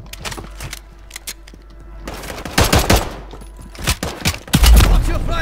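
Rapid bursts of automatic gunfire in Call of Duty Warzone, with loud clustered volleys and single cracks building toward the end, mixed with game sounds and occasional voice chat.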